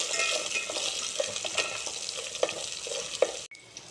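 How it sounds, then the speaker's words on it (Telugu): Onion, crushed garlic cloves and peanuts frying in oil, a steady bright sizzle with scattered stirring clicks against the pan, stopping abruptly near the end. "ఒక ఆనియన్, కచ్చా పచ్చగా దంచుకున్న వెల్లుల్లి రెమ్మలు, కొన్ని పల్లి గింజలు వేసుకొని ఆయిల్లో వేయించాలండి."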